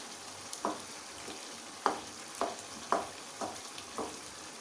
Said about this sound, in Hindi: अभी हम टमाटर को अच्छी तरह से